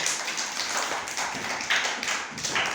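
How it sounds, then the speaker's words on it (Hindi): Children clapping along in a classroom lesson on colours and counting, a dense patter of small hands tapping steadily throughout at moderate loudness. "बहुत बढ़िया, ताली बजाओ।"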